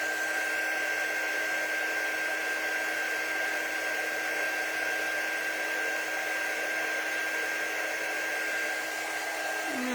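A hair dryer runs steadily and close by, drying paint on a box frame, its even whir holding constant for the whole stretch with no talk over it.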